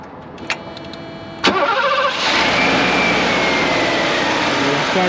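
A 1988 Mercedes-Benz 560SEL with its 5.6-liter V8 starts after a couple of faint clicks: a short crank, then the engine catches and holds a loud, smooth, steady idle up close.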